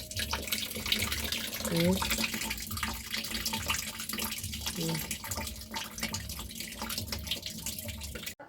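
Water runs steadily from a tap as a t-shirt is rinsed, a continuous splashing wash with brief louder gurgles, while a person murmurs softly.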